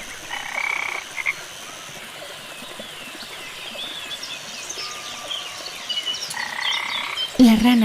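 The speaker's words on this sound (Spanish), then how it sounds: "¡Rana!" A frog croaks in short repeated bursts, the calls loud and close against a faint natural background, with a final low croak at the end.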